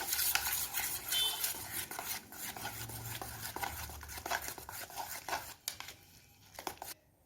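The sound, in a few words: stirring chili powder, turmeric and salt mixture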